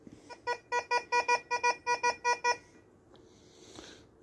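Tesoro Tejon metal detector in automatic sound mode gives a rapid run of about ten short, evenly spaced electronic beeps, loud and close, then falls to near silence with faint background noise.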